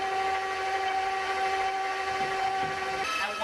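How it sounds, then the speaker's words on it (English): An electric mixer creams one pound of butter, giving a steady whining motor hum with sustained high tones throughout, fairly close, with a brief shift in pitch near the end. "So I'm gonna start by creaming my butter."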